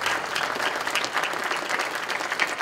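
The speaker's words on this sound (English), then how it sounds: "can we give her a round of applause?" Audience applause at a primary healthcare and regional medical center meeting, steady dense clapping from a room of people, sustained and moderately loud throughout.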